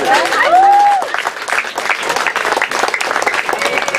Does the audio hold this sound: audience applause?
yes